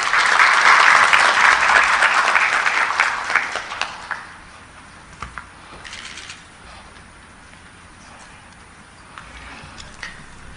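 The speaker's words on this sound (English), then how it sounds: "Could you help me welcome him with a round of applause?" Audience applause welcomes a regional commissioner at a democracy stakeholders' conference in Arusha, Tanzania. It starts as a loud, dense burst of clapping, then thins after about four seconds into scattered, fading claps over quieter room noise.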